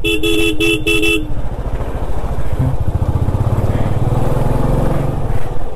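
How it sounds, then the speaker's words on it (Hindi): A vehicle horn on a mountain road in the cold desert near Nubra Valley in Ladakh gives three short, loud honks in quick succession, followed by the close, steady engine drone of a motorbike on the ride. "गाडीने हॉर्न मारला."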